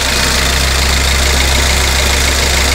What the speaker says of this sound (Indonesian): ini dari mesinnya, kelihatan fine. Suaranya pun halus. Nih, coba dengerin lagi.